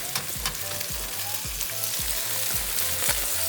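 Pad thai sizzling in a pan while being broken up, a close steady frying hiss cut by regular scraping and stirring knocks in a quick, even rhythm.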